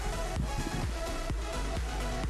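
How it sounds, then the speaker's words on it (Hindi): An electric fan plugged into a switchboard socket runs with a steady, soft whirring hum and a few faint knocks underneath. Nobody talks. "ये फैन का साउंड है"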